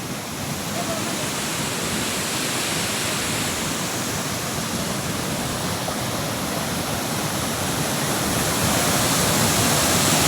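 Water rushes at Netod dam in a steady, loud, broadband roar like a waterfall, constant and unvarying, with a faint voice barely present under the flow.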